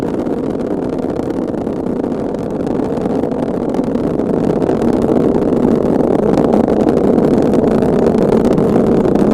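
Ariane 5 rocket booster engines during launch near max Q, a steady, loud, dense roar that holds broad and unbroken from start to finish with no pauses.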